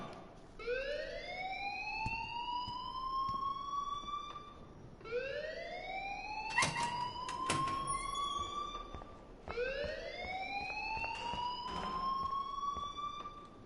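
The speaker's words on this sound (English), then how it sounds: "please turn off that alarm since that's your job" An alarm in the video game Life is Strange wails in three long rising sweeps, each climbing and holding, repeating steadily at a moderate, even loudness with no voices over it.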